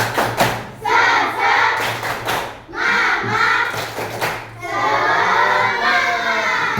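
Schoolchildren in a classroom performing the 'tepuk semangat' rhythmic clapping chant, loud bursts of claps and thumps in patterned groups with chanted voices, brief pauses between phrases, close and lively.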